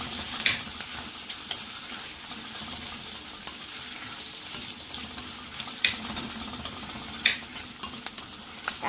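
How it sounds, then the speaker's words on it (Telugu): A spoon stirs tomato paste into softened, sizzling vegetables in a pan for chilli mushrooms, a steady soft frying hiss with occasional sharp utensil clinks against the pan, fairly quiet and close. "టమాటా పేస్ట్ వేసి కలుపుకుంటున్నాను."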